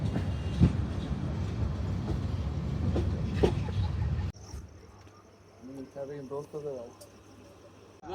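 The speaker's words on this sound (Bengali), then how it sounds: "আমাদের ট্রেনটি এখন জয়দেবপুর জংশন রেল স্টেশন প্রবেশ করলো" The Jamalpur Express train rumbles loudly into Joydebpur Junction station, a dense continuous roar that cuts off abruptly, leaving a quieter interior where someone talks.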